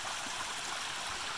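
Creek water rushes and gurgles steadily at close range during a snowshoe creek crossing while hunting blacktail sheds in the snow, a constant bright hiss with no voices.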